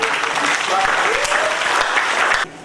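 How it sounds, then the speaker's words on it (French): Crowd applause at a town hall gathering, steady clapping with a few voices rising through it, cutting off abruptly near the end. "Est-ce qu'on peut applaudir pour monsieur le pouvoir?"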